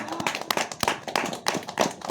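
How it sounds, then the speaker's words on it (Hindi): A church congregation claps hands together, fast and uneven, loud and close with no pauses for about two seconds. "ताली बजा"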